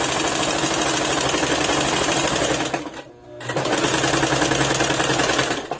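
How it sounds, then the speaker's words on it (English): A sewing machine running a straight stitch along a garment hem, a steady rapid mechanical chatter up close that stops briefly midway and then resumes at the same pace. "so you're going to do a straight stitch"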